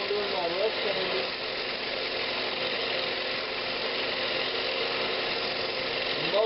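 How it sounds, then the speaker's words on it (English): Continuous abrasive hiss of sandpaper rough-sanding a walnut hollow form turning on a lathe, steady and close with a low motor drone and faint squeaky scrapes at the start and end. "I'm just going to keep on doing my rough sanding."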